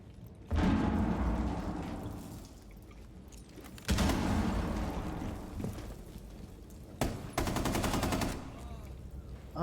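Automatic weapon fire in Rainbow Six Siege, loud rapid bursts in three main stretches with sharp onsets and decaying tails, mixed with explosion-like booms.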